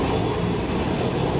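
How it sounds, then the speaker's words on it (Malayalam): A train runs along a railway in Kolkata, a dense, continuous low rumble that stays close and loud throughout, with no break and no talking. "റെയിൽ ഗാഡി."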